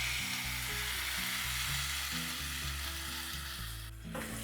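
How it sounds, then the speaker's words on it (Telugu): Beans and potatoes frying in a pan and being stirred, a steady close sizzle with scraping strokes of a spoon mixing, and a harder clank near the end. "మొత్తం మిక్స్ చేసాం"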